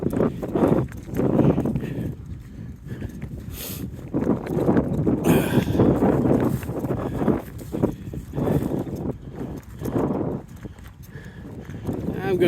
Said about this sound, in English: These are dairy cows. They're used to people.